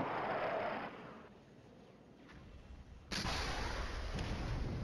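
Artillery barrages from the Flashpoint Campaigns Red Storm wargame rumble as dull distant booms. They run under a steady wash of battle noise, with a sharper, louder burst partway through.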